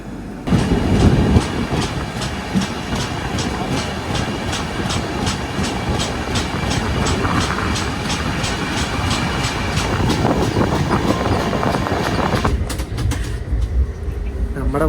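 Kochuveli–Mysore Express running steadily as heard from inside a Third AC coach, a continuous loud rumble with rhythmic clickety-clack of wheels while overtaking a Bangalore–Mysore MEMU, the tone shifting near the end.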